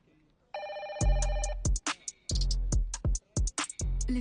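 A telephone rings in repeated electronic trills near a seated conversation, the ring tones carrying on alongside short bursts of speech.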